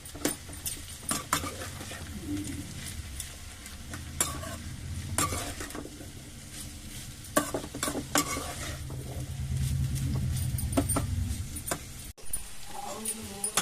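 Half a kilo of bitter gourd pieces stirred in a hot pan with tomato, a steady sizzle broken by repeated scraping and clattering of a spatula against the pan, close and fairly loud, with a louder sizzling swell near the end.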